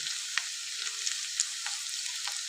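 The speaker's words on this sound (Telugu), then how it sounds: "ఇప్పుడు మన ఆనియన్స్ అయితే మంచిగా ఫ్రై అవుతున్నాయి" Onions sizzle in hot oil in a pan, a steady bright crackle with a few sharper pops and soft stirring scrapes, close and unbroken.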